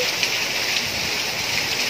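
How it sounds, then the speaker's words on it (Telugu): Heavy rain pours down steadily, a dense, even hiss of drops with no pauses throughout. "ఇక్కడ వర్షం బాగా కురుస్తోందండి."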